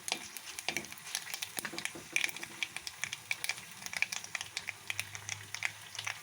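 Mustard seeds and a single chilli spluttering in hot tempering oil for rasam, giving rapid, irregular crackles and pops over a steady close sizzle, with no talking.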